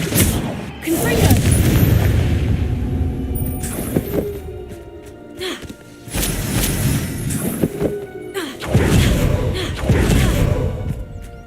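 Fiery Confringo spell blasts in Hogwarts Legacy combat land as a run of loud, booming bursts with crackling tails, packed among other layered battle effects and spell sounds, close and continuous with only brief lulls.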